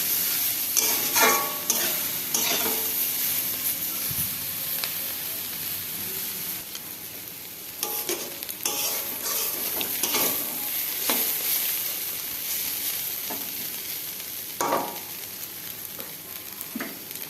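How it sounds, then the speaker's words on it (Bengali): Fried fish and leafy greens are stir-fried together in a pan, giving a continuous sizzle and hiss with repeated scraping and clanking strokes of a spatula. "তারপর ভেজে রাখা মাছগুলো দিয়ে ভালো করে ভেজে নিতে হবে"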